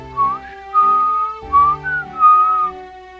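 The Minuet of Forest ocarina tune from The Legend of Zelda: Ocarina of Time plays as a short, clear melody of a few sustained, pure whistle-like notes that rise and glide, loud and alone.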